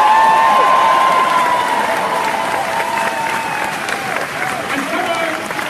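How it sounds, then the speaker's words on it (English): A large crowd at a political rally in Leeds cheers and applauds steadily, a dense continuous wash of clapping and shouting voices that fills the whole stretch without letup. "Can I get a cheer from everyone who is proud, like me, of being working class?"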